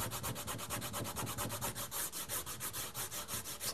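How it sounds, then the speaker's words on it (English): Fingertips rub dried masking fluid off watercolour paper in quick, steady back-and-forth strokes, a soft continuous scratchy friction with a regular pulsing rhythm, close and fairly quiet, with no voices. "and you just rub with your fingers"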